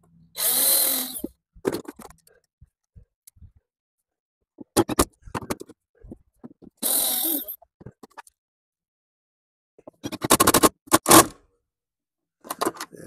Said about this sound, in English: I'm going to drill a couple pilot holes in here